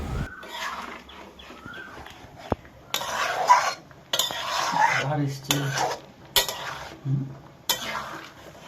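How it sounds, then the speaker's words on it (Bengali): Aloo posto, potatoes with poppy seed, is stirred in a pan, a spoon scraping and clinking against the metal in bursts, with faint sizzling between the strokes and no talking. "একটু নাড়বে, নাড়াচাড়া করার পর এটা একটু ফুটবে"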